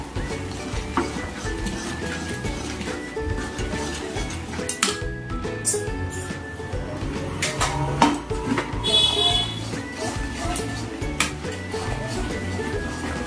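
Peanut Mysore pak mixture being stirred in a metal pan makes repeated scraping and clinking of a utensil against the pan, steady and close.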